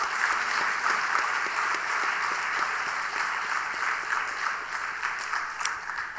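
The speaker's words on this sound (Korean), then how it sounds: "우리 유초등부 우리 교사 선생님들에게 이제 다 같이 우리 위로의 박수를 먼저 한번 보내드리겠습니다" A church congregation claps for the elementary Sunday school teachers at a Sunday evening service, steady sustained applause from a roomful of people, moderately distant and even throughout with no voices over it.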